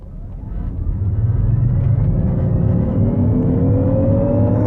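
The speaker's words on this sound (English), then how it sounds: "I'll just hit the accelerator as fast as I can." A 2019 Jaguar I-PACE electric car accelerating flat out in dynamic mode, its motor whine climbing steadily in pitch over rising road and wind roar, loud and close from inside the cabin, with no talking.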